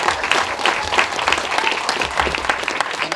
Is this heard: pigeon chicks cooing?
no